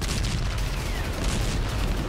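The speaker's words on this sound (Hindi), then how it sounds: "गोलियां चलने लगती हैं। दोनों तरफ से गोली बम मिसाइल चलने लगते हैं।" Cartoon battle noise between soldiers and terrorists fills the clip, a dense, loud, continuous rumble of gunfire and blasts with no pauses over two seconds.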